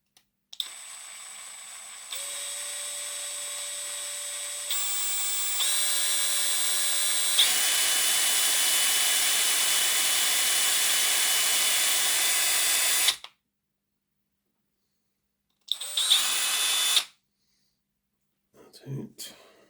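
Power drill boring through a Hornby 0-4-0 tank model locomotive, a loud, steady high whine that rises in pitch in steps over about thirteen seconds, then a short second burst after a pause, with faint talk.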